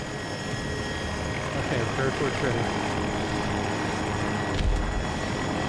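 A helicopter in Battlefield 2042 drones with a steady rotor and engine roar under a player's voice, holding constant through the moment.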